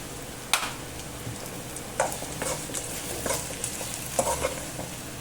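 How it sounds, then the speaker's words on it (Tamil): Onions sizzle and crackle in a hot pan while a utensil stirs them, with soft scraping clicks over a steady frying hiss. "வெங்காயம் எல்லாமே சூப்பராக நல்லா வதங்கிருச்சு."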